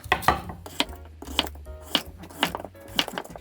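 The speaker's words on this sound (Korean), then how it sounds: "그래서 좀 넓적넓적하게 썰어서 넣어주면 좋아요." A kitchen knife slices radish into wide, flat pieces for a pollack stew, with about seven crisp, close chops on a cutting board at a steady rhythm.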